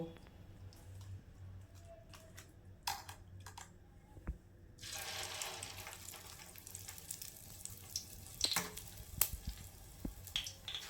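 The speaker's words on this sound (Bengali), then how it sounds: "একটু কম স্টিমে ভাজবো" Battered chicken fritters fry on low heat in a pan. A quiet scattered sizzle with sharp pops and crackles swells into a denser, steady hiss midway, close up and without talk.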